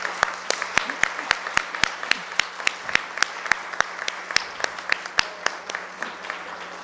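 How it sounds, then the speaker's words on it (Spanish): Audience at a university conference in Colombia claps together in a steady stream of sharp, evenly spaced claps, close and moderately loud, with a faint low hum underneath. "Gracias por el aplauso"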